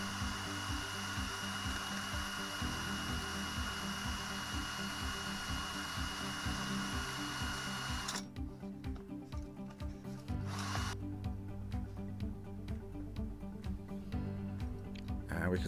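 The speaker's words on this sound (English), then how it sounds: "So I'm now sanding the axles, trying to polish them up a little bit" Steady abrasive rubbing of sandpaper against the metal axles of a Matchbox Leyland tanker toy, continuous and close, with a motor hum underneath and a change in texture partway through.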